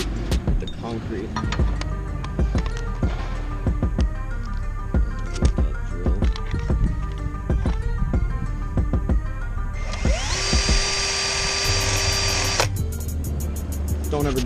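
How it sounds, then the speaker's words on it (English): Power drill boring into a metal mini bike foot peg with a dull bit: a busy grinding, rattling motor whine that rises into a steady high-pitched whir near the end, with a person talking over it. "I'm going to try and drill a hole in this and not have my bit hit the concrete."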